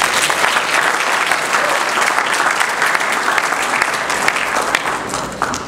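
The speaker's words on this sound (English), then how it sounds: "Let's give them a round of applause." Audience clapping after an evening event honoring the mayor of Annapolis: steady, dense applause that holds loud throughout and tapers a little toward the end.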